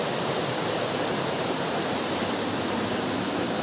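Water pours from a natural spring into a river, heard as a constant, dense broadband rush like a small waterfall, close and even throughout with no talking.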